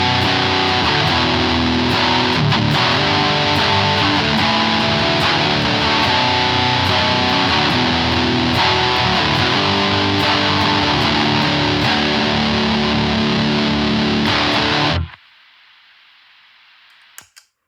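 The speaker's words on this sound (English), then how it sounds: "So I have this on the asymmetric clipping mode and punch this on for huge parts or whatever." Electric guitar run through a distortion pedal set to asymmetric clipping mode on a shoegaze and post-hardcore pedalboard, a thick, loud, sustained wall of distorted chords that holds for about fifteen seconds, then cuts abruptly to a low hum and a couple of clicks.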